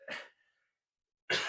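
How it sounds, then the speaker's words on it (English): A single short cough-like burst near the start, then silence, followed by another brief throaty burst ending in a sharp vocal sound, close to the microphone. "I don't want to cough in the microphone either"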